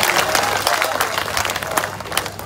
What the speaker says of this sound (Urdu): سب کو اچھا لگا تو سب تالیاں بجا کے مجھے بتائیے